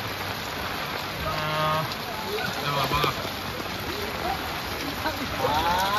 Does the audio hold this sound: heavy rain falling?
yes